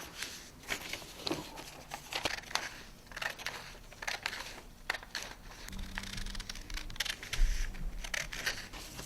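Scissors cutting a paper sheet into strips, with repeated crisp snipping and crinkling close by, steady and fairly quiet, with no talk.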